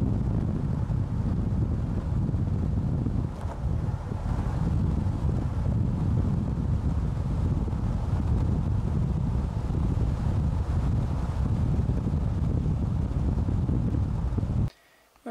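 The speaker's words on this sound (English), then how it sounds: "The wind outside is very icy and chilly" Icy, chilly wind blows outdoors at Pekina Creek in the Flinders Ranges, a loud continuous buffeting rush of wind noise on the microphone, with no voices.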